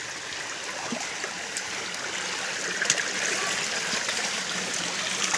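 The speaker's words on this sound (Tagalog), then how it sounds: "Mga kalahi, ito na yung talon." Waterfall and a flowing stream, close by, giving a steady, full rush of splashing water with a constant hiss and gurgle throughout.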